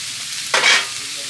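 A single short stirring scrape and sizzle as spiced singara filling, seasoned with turmeric, roasted cumin powder and garam masala, is turned in a pan; close, brief and alone over a quiet background.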